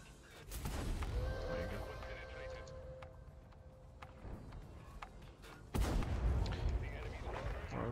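Tank cannon fire in a tank battle video game with a German heavy tank, heavy booming shots landing amid steady battle rumble, including a loud blast followed by sustained noise, with a voice talking over it.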